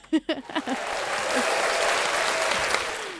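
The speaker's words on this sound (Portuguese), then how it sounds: "As palmas aqui são fortes." A studio audience on a Brazilian talk show breaks into strong, sustained applause after a few sharp opening claps, the dense clapping holding steady and close for several seconds.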